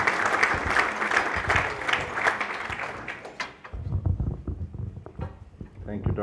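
Audience applause at a formal event on UK–Pakistan relations, a dense steady clatter of many hands that dies away after a few seconds, leaving a voice speaking over light room sound.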